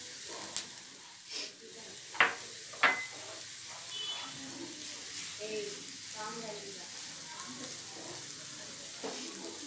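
Grated coconut frying in oil and being stirred in a pan while making a coriander tempering, a soft steady sizzle with a few sharp clinks of the spoon early on, close and fairly quiet.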